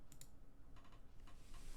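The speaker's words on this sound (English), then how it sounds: "I say that whilst typing on Twitter" Light, quiet keystrokes on a computer keyboard come in short scattered bursts of a few clicks, faint over a low background hiss, with no talk.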